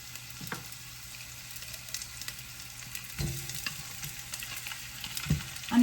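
A whole Cornish chicken goes into a pot for tinola and sizzles steadily in hot oil, with a few clanks and stirring scrapes close by and no talking.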